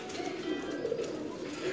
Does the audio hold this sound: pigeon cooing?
yes